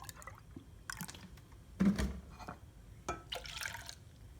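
Milk is poured into a glass in a home kitchen while making chai, giving soft intermittent splashes and trickles with a few louder glugs.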